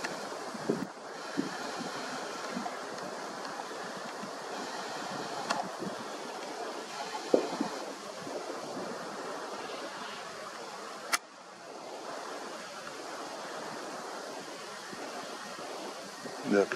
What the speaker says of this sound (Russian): Ну вот это уже ветер